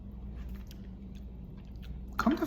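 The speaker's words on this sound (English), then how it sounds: "Eating this cold cheesesteak" Someone chews a cold Philly cheesesteak up close, with soft, steady, moist mouth sounds that end in a louder, crunchier bite.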